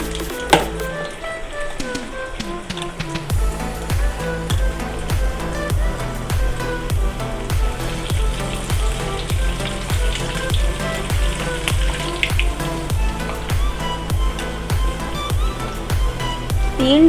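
Shami kababs deep-frying in hot oil, a steady close bubbling sizzle that runs throughout with a regular clicking pulse in the background and no talk over it.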